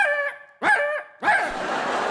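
A person imitating a dog barking at a comic scene, three loud, close, voiced bark-like yelps, the last one longer and rougher, with no other talk.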